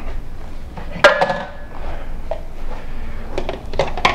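A bowl taken from a kitchen cupboard while tomatoes are seeded and skinned: a sharp wooden knock of the cupboard door, then light clinks and clatters of dishware, close by and brief, with no talking.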